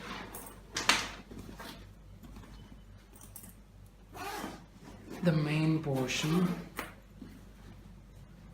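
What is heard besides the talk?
opening main zipper of motorcycle tank bag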